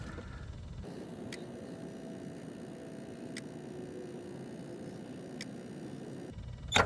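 A gas or diesel engine idling steadily after a cold start, a continuous low rumble with faint ticking, then it cuts off abruptly near the end, with no one talking.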